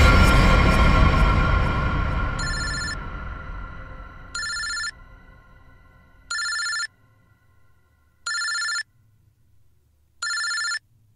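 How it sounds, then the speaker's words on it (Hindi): A telephone rings in a repeated electronic pattern, four or five evenly spaced short bursts, clear and close after a fading burst of louder noise at the start. "ये किसका फोन है?"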